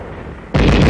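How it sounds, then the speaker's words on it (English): Machine gun firing during US Army winter warfare training from 1950: after a quiet moment comes one abrupt, loud, sharp burst. "Our machine gun covers the advance."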